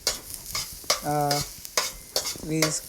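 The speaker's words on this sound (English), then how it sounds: "keep stirring it to make it a little bit brown" Vegetables and garlic stirred while frying in a pan for a Khmer stir-fry, with rhythmic scraping strokes of a spatula over a soft sizzle and a couple of brief metallic rings, close and without talk.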